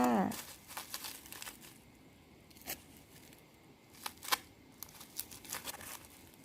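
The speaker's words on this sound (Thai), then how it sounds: "ตอนนี้เราก็ห่อถึงแผ่นสุดท้ายแล้วนะคะ ติดเทปใสเช่นเดิมค่ะ" Paper crinkles and rustles close by as a parcel is wrapped for packing egg shells, with intermittent sharp crackles and tape handling sounds in quick, irregular bursts, and no voices heard.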